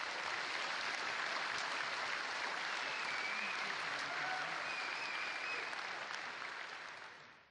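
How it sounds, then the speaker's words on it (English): Sustained loud applause from a large audience at the Fanfest 2012 keynote, a dense even wash of clapping that fades slightly at the very end. "Now you applaud for these guys that build Carbon REST."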